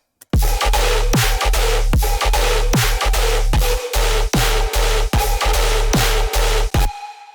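Heavily designed dubstep bass built from a Wales bass synth patch: loud, dense, growling wobble tones with deep sub weight, chopped into rapid rhythmic hits with sharp gaps and sweeps, running continuously without talk.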